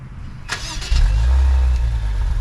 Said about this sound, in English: the quad tip dual exhaust, which we can start up.